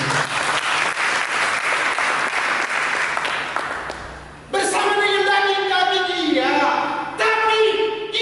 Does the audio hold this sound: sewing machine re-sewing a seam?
no